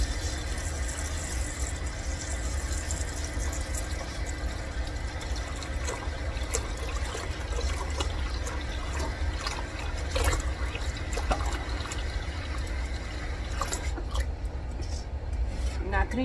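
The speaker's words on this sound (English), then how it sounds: "Now I'm going to fill this up with water." Water running steadily into a soup pot holding carrots, onions and a ham hock for homemade bean soup, a continuous close trickling and splashing that carries on without a break.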